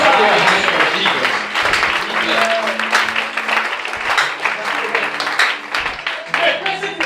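Church congregation applauding and cheering in praise, sustained dense clapping from a crowd with a voice speaking over it and short sung or called tones mixed in.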